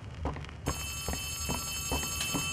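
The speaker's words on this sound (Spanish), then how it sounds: "Suena un teléfono." A telephone ringing inside the horror video game Poppy Playtime Chapter 3, a bell-like ring that repeats at an even pace over a low hum and high electronic tones.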